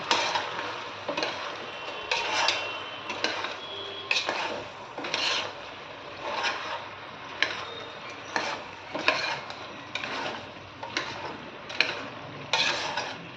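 A spoon stirs chicken curry with masala in a pot, giving repeated scraping, sizzling strokes at a steady rhythm over a faint frying hiss, close and moderately quiet.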